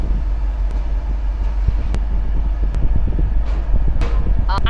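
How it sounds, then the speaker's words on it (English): A Jeep Wrangler 392 engine gives a steady, loud rumble with exhaust drone throughout, with a few sharp clicks and a brief voice near the end. "It's got a button to make the"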